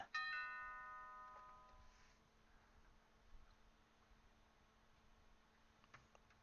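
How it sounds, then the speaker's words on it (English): A phone notification chime goes off: a bright, clear multi-tone ding at the start that rings out and fades over a couple of seconds, with a faint tick or two afterward in a quiet room. "Kind of hilarious because right as I do that, my frickin' phone goes off"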